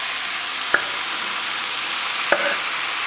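Peppers, garlic and tomato stir-frying in a pan: a steady broadband sizzle holds throughout, with two brief louder scrapes or clinks of a utensil near the start and later on, and no talk.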